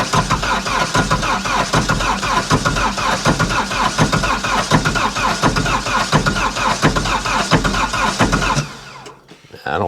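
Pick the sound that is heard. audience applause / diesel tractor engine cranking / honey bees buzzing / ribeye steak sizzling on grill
diesel tractor engine cranking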